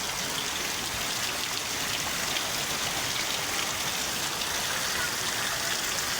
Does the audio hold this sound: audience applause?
no